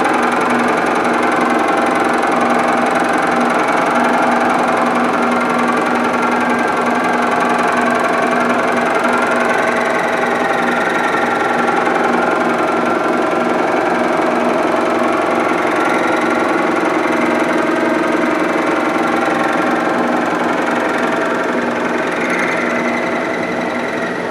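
A milling machine cuts a metal dice cube, a loud, steady, continuous grinding whine with a sustained hum that runs unbroken throughout.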